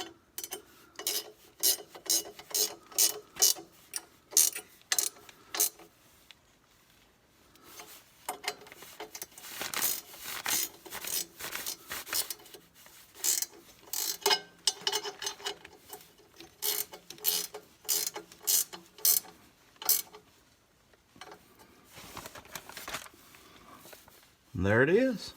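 A ratchet clicks in quick repeated bursts while tightening bolts on a TYM RK24 tractor's hydrostatic fan shield, each run of ratcheting close and crisp with short pauses between.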